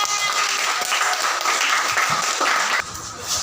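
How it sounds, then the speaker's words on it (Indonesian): Classroom applause from students in a primary school maths lesson, a dense, steady wash of many hands clapping together at close range, fading slightly near the end. "Tepuk tangan."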